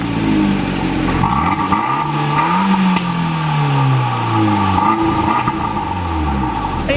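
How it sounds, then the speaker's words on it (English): Fiat 124 Abarth with a four-cylinder engine and four exhaust pipes revving up and back down, a loud, close exhaust note rising in pitch, then falling, with no talking. "even though this car has only 4 cylinders, it also has 4 exhaust pipes, which may seem like overkill, but it does sound pretty good"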